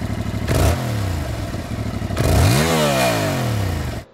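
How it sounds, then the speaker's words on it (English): A Yamaha R7 motorcycle on its stock exhaust revs twice, engine pitch sweeping up and falling back between blips over a steady idle, loud and close with no talking. "this is what this bike sounds like stock"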